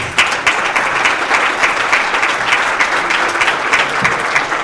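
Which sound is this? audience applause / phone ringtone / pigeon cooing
audience applause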